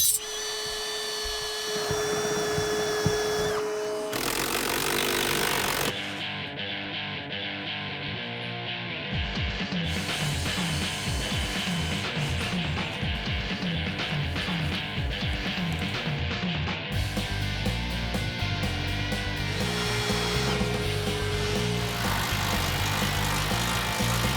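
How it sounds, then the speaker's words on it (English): A power drill whines at close range in long sustained runs, pitch shifting as it bites into material on a ramp truck, with short pauses between holes. "Let's drill some holes."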